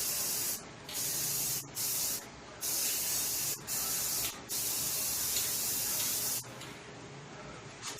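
A paint coat sprayed onto 1959 Riverside scooter wheels, several loud close hissing bursts of varying length separated by short gaps, ending in a long steady spray.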